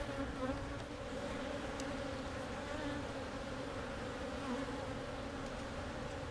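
Honeybees buzz continuously around an open hive close to the listener, a dense, steady drone of many insects, without any talking.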